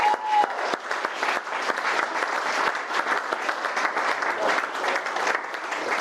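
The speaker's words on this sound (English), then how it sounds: "let's give a round of applause for the groomsmen" Wedding guests applaud the groomsmen with sustained, dense clapping that stays steady and fairly loud for the whole stretch, with no talk over it.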